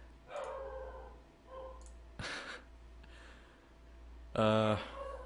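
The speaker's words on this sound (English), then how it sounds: "Dog's gotta shut up." A pet dog in a home recording setting gives a few short, faint barks and yelps scattered among breathy sounds, ending in one louder, sharper bark.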